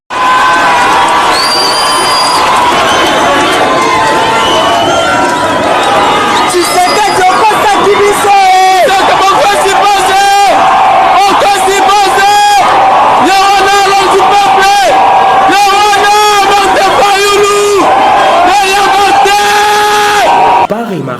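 A huge jubilant crowd in Goma cheers, shouts and whoops to welcome the politician Fayulu, a loud continuous roar of many voices, children's shouts and chanting that swells and holds throughout.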